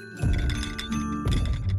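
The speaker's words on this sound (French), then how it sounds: "c'est un bruit de pas d'être humain" Cartoon footsteps of approaching humans: two heavy, booming thuds about a second apart, close and loud over a sustained musical backing.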